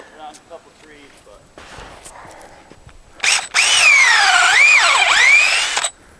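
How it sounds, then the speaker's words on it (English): A power drill whines loudly into a maple tree's wood, its pitch rising and dipping as it bores a tap hole, preceded by quieter handling sounds and brief talk. "drill about 2 inches past the back"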